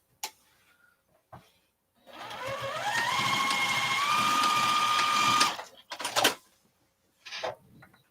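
A sewing machine stitches down part of a zippered carry-all bag, running steadily for about three and a half seconds with a rising motor whine, framed by brief fabric handling noises before and after.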